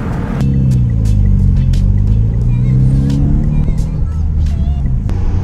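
A Mitsubishi Evo X and a Jeep SRT8 race on a public street, their engines droning loudly and steadily from inside a car, with people talking over the noise.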